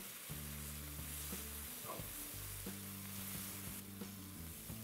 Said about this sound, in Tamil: இது மாதிரி கட் பண்ணி டைரெக்டாக நீங்கள் ஆயிலில் போட்டு குக் பண்ணும்போது ஒரு 5-8 நிமிஷத்துக்குள்ளே இந்த உருளைக்கிழங்கு வெந்துடும்